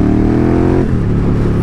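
A KTM 1290 Super Duke R twin-cylinder motorcycle engine revving loud and close, a dense throbbing roar whose pitch dips and wavers midway, filling the whole moment without pause.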